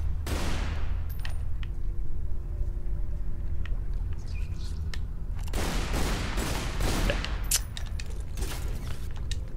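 Gunfire while shooting enemies in Tomb Raider: Underworld: a loud opening blast, then a lull, then a rapid cluster of sharp shots crackling in quick bursts over steady background noise.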